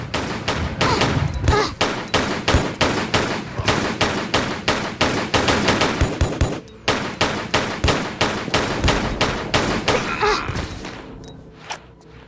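Gunfire in Tomb Raider (the Techno Egyptians custom level) aimed at a gunman guard, a rapid loud regular volley of shots repeating for about twelve seconds, a brief gap midway, then tapering off at the end.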